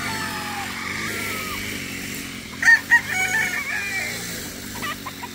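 A white gamefowl rooster crows once, loud and close, a rising then drawn-out call with a few short clucks after it, over a steady low background hum.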